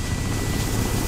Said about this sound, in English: There's a chopper up there.